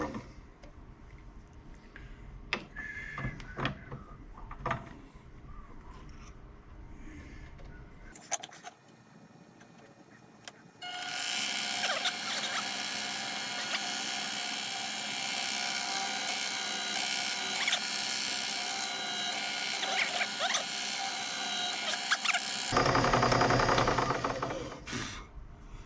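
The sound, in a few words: chamfering pie press parts with a grinder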